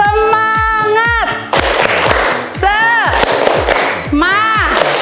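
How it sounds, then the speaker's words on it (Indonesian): Students in a classroom doing the tepuk semangat rhythmic clapping ice-breaker, with sharp group claps in a quick patterned rhythm and loud chanted voices rising and falling between bursts of clapping. "Tepuk semangat."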